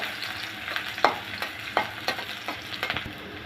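Chopped garlic and onion fry in soybean oil while being stirred, giving a constant close sizzle with frequent quick scraping strokes of a spoon against the pan.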